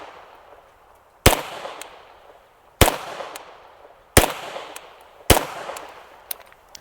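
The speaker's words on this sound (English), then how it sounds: "put it on the 12 gauge that we've loaded with 7 rounds of high-velocity slugs, shoot 7 rounds of high-velocity slugs" Four loud, sharp shotgun blasts from a 12 gauge loaded with high-velocity slugs, spaced a second or so apart, each with a short ringing decay, outdoors at a range with no talking.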